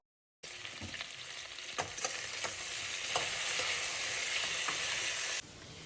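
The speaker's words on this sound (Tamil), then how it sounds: "கொஞ்ச நேரம் அப்படியே வதங்கட்டும்." Ivy gourd sautéing in a pan with turmeric, chili powder and salt for a gravy gives a steady, fairly close sizzle, with scattered scrapes and taps from stirring and no talking.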